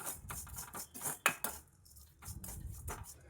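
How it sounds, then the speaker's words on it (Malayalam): Dried shrimp are dry-roasted in a Kerala cheenachatti on the stove, a spoon scraping and clinking against the pan in quiet, irregular bursts. "അടുപ്പത്തൊരു ചീനച്ചട്ടി വെച്ച് ഈ ചെമ്മീനൊന്ന് വറുത്തെടുക്കാം"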